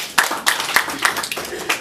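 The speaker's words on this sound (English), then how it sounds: "Please, another round of applause to them." Audience applause at a business presentation, a short burst of rhythmic clapping with several distinct loud claps in a steady beat, close and fairly strong.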